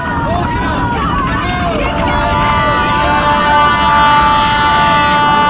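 A train rumbles past amid a crowd's babble, its wheels, wagons and a wavering horn-like tone layered loudly and continuously under the voices.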